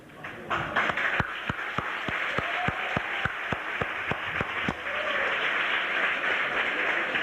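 Sustained applause from an audience at a university psychology faculty lecture, with a string of sharp, evenly spaced claps standing out near the front before blending into the crowd.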